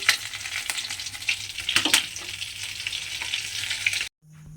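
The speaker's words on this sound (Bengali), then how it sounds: "আর এইভাবে কিন্তু আমাকে প্রথমে প্রত্যেকটা বল কিন্তু ভেজে নিতে হবে।" Egg balls frying in hot oil for an egg ball curry, a steady close sizzle with occasional stirring clinks, then a sudden cut to near silence with a faint low hum at the end.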